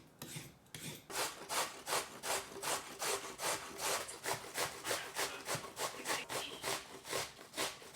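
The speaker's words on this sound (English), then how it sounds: "we gotta grate up the carrots, the apples, the ginger, and zest our oranges" A rhythmic rasping of carrots, apples and ginger being grated, with about fifteen even strokes back and forth, close and steady with no voices.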